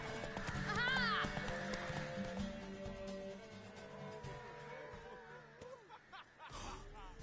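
Hooves clip-clop rapidly as a mare gallops through a horse race in The Witcher 3, with a whinny near the start and game voices speaking over the hoofbeats throughout.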